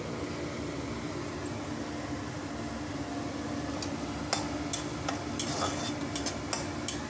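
Cumin seeds sizzle in hot frying oil with a steady crackling hiss, close and fairly quiet. A few sharp metallic scrapes and taps from stirring come through near the end.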